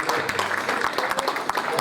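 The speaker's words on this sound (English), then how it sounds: "let's give them a round of applause" Audience at a celebrity golf day clapping together, a steady patter of applause filling the whole moment, fairly close, with voices mixed in.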